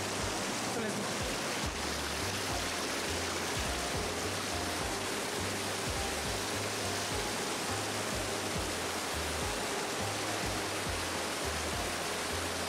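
The stream below Devkund waterfall in Tamhini Ghat rushes with strong flow, making a loud, unbroken wash of water noise that fills the whole scene.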